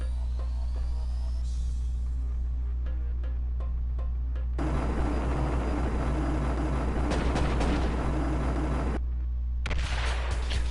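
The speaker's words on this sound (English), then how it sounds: "Wow, that was one heck of an explosion." Loud bursts of explosive blasts and gunfire in Marvel Ultimate Alliance, a steady low rumble underneath, with a long roaring stretch in the middle and another blast near the end.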